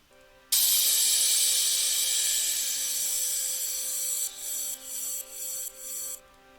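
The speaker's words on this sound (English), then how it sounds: "Then some downlifters," Downlifter effects for a progressive house track: a loud noisy sweep starts suddenly and slowly falls over a low hum, followed by several short stuttering bursts near the end.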